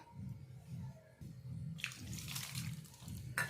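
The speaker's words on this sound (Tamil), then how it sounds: "கொஞ்சம் கொஞ்சமாக தண்ணி விட்டு நல்லா கலந்துக்கலாம்" Water poured a little at a time into ragi flour dough while mixing, soft close splashing and gurgling in short pulses with a low rhythmic rumble underneath, quiet and without talk.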